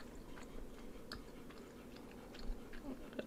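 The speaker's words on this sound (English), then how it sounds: "watching this guy eat a Hershey chocolate with chopsticks" A man chews Hershey chocolate eaten with chopsticks, giving soft, close, irregular mouth clicks and faint crunches over a quiet background.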